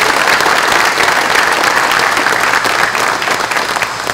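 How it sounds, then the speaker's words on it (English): Audience applause at an economic development announcement in Fulton, loud continuous dense clapping from a large crowd that holds steady and eases slightly toward the end. "they deserve a big round of applause for that"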